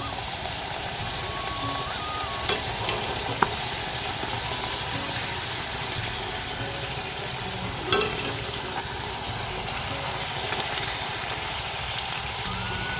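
Palm pitha batter deep-frying in hot oil, a continuous rain-like sizzle and crackle with a few sharp clicks from a utensil, close and steady throughout.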